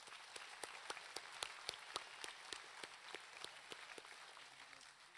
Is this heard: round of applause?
yes